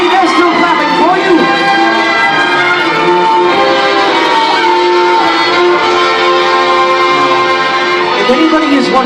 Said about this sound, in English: They're still clapping for you.